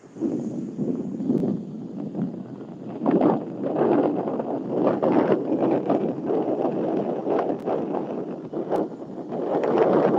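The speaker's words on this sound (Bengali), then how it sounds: "বাতাসও যে পরিমাণে চলছে জল উচ্ছ্বাসও সেই পরিমাণে" Strong wind buffets the microphone over a continuous roar of surging sea water on Digha beach at full moon, rising and falling in gusts, with no voices.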